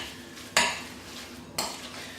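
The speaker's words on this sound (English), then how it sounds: "I've just got a spoon and I'm just going to give it a good mix" Spoon mixing raw turkey burger meat with spices and egg yolk in a bowl, two distinct close scraping strokes about a second apart over quiet background noise.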